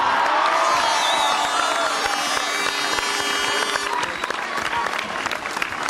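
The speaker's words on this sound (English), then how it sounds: "All right, so round of applause" A crowd applauds and cheers loudly and continuously for a top scorer award presented at a Gaelic football senior championship final event, with scattered whoops; the clapping stays dense throughout and thins slightly near the end.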